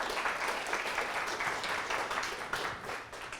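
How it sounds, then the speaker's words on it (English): Audience applause at an awards presentation: a steady, dense patter of many hands clapping at moderate distance, holding evenly for a few seconds before easing slightly at the end. "give yourself a round of applause"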